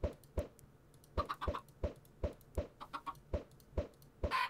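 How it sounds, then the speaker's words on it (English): Minecraft chickens clucking in a game world, a steady run of short, evenly spaced clucks repeating about every half second, moderately close and clear, with no talk over them. "Let's see if we can get some chickens now."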